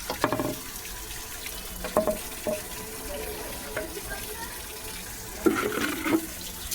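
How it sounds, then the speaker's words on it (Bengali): A village tap left open to fill water for the kitchen, running steadily as a soft broadband rush with a few clunks and bursts of handling noise, fairly close and on its own. "আমার রান্নাঘরে জল তুলতে হবে, এটা আমি আবার খুলে দিলাম"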